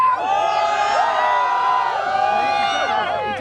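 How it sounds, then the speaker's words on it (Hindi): Wedding guests at an Indian celebration shout and cheer together on cue, a dense wall of overlapping whoops and yells that stays loud and continuous throughout, close to the listener. "अब पहले वो लोग चिल्ला के दिखाएंगे"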